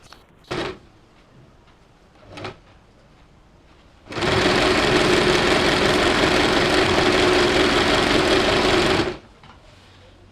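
A sewing machine stitches piping for tulip-style sleeves in one steady burst lasting about five seconds, loud and close, preceded by two short bumps from handling the fabric.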